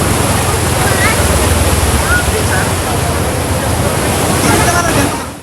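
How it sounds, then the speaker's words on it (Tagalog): Strong floodwater rushes under a bridge near Singcang Airport in Bacolod, a loud, constant roaring wash of turbulent water that fills the whole clip with no break. "Amo sinikakusog sang tubig sa idalom sang Taytay sa may kilid sang Lechonan sa Singkang Airport sa Bacolod"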